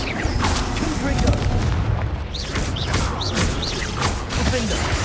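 Blasting spells in Hogwarts Legacy combat, a dense run of booming impacts and crackling bursts, several close together over a busy layered battle background, with a voice speaking briefly.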